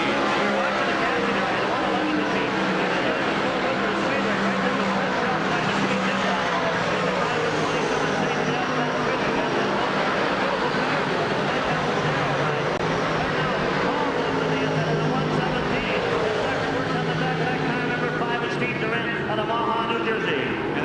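Race cars lapping at Syracuse speedway, a continuous broad engine roar of several cars running together under a track announcer's steady commentary, loud and unbroken from start to finish.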